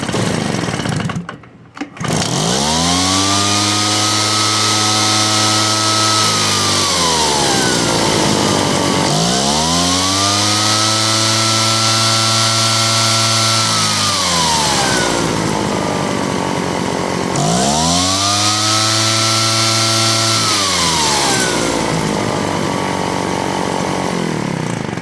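A Poulan Pro PR46BT backpack blower's two-stroke engine roars close by, throttled up three times with each burst rising, holding, then falling back to idle, preceded by a brief sharp noise at the start.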